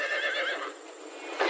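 A horse in an animated Hindi folk tale lets out a loud, clear whinny that fades, then ends in a short snort, alone with no talking.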